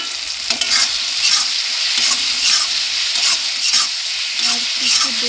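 Tomatoes and ginger fry in a pan with a loud, continuous close sizzle, with soft stirring strokes recurring every second or so.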